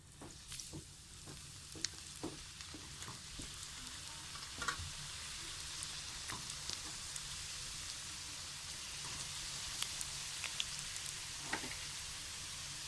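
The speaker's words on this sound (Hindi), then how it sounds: "अब इसमें हम ये रोल फ्राई कर लेते हैं।" Suji rolls sizzle and crackle steadily in hot oil, a dense continuous frying hiss with scattered sharp pops throughout.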